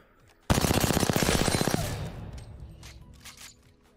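The new gun in the Apex Legends Escape launch trailer fires one loud, rapid automatic burst of evenly spaced shots for just over a second, then trails off into a fading echo and rumble.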